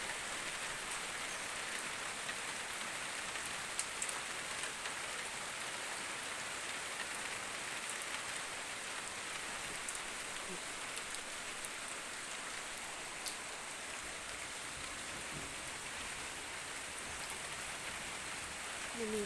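Steady rain pattering across a coffee garden, a dense continuous hiss of drops on leaves and surfaces that stays even and moderately close for the whole stretch, with no voices.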